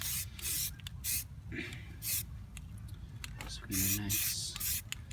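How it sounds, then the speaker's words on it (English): Spray primer hisses onto a car wheel in several short, close bursts separated by pauses, with someone talking between and over the sprays. "So putting some primer on the wheel now."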